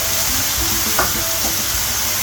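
Crispy noodles are stir-fried in a single wok, giving a continuous close sizzle and hiss with faint scraping of the pan, and no talk.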